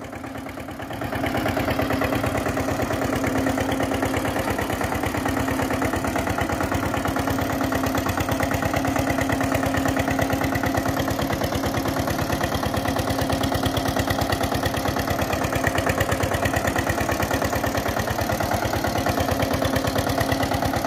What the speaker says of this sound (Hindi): थोड़ा सा खींच के लेके चलो ऐसे ट्रैक्टर को।